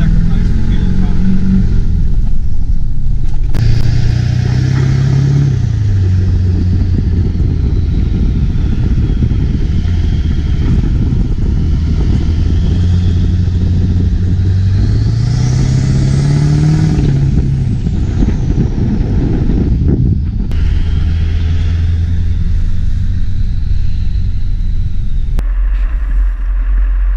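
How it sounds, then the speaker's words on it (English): A Duramax diesel-converted H2 Hummer does a four-wheel-drive burnout, its engine roaring loud and steady with revs rising and falling throughout, close and continuous. "Nothing better than doing a four-wheel drive burnout in the H2 Hummer"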